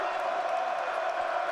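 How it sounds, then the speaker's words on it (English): Loud stadium crowd at a Penn State home football game against Ohio State, a steady dense roar filling the whole stretch without pause. "This crowd is loud."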